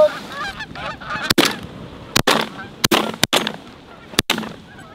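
Several sharp, loud shotgun blasts ring out during a swan hunt, spaced irregularly over a backdrop of honking geese and waterfowl calls.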